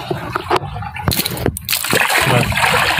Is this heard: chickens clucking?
no